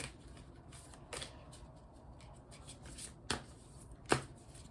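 Tarot cards are shuffled in short, crisp riffling bursts with quiet pauses between, close and fairly soft, no voices.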